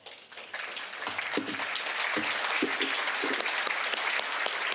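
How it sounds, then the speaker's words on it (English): An audience applauds at a school ceremony for student nominees, steady dense clapping that swells quickly after a quiet start and holds at a sustained, moderate level. "be recognized with a round of applause"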